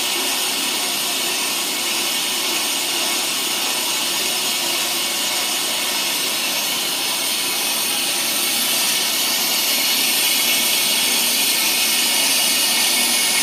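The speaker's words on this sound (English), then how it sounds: "So we'll let that go ahead and make a pass all the way across that rotor" A brake lathe cuts a steady pass across a brake rotor, giving off a loud, continuous broadband metallic hiss and whir that holds evenly from start to finish with no talking.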